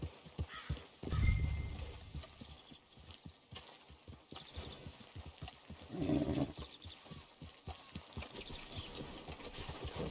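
Horse hooves clip-clop in a steady rhythm through the Red Dead Online game world, with a couple of louder snorting whinny bursts rising above the hoofbeats near the start and again midway, fairly close.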